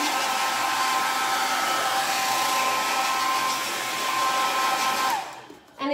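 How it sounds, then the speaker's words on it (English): Hair dryer blowing on fabric for a no-sew craft pumpkin, a loud steady whirring roar held for about five seconds before it switches off and drops away. "Let's hit that dryer just a little bit more."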